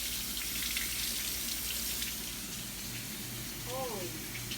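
Tap water runs steadily into a kitchen sink during hand washing while cooking spicy chicken sandwiches, a continuous close splashing hiss with a few faint voices and background kitchen noise underneath.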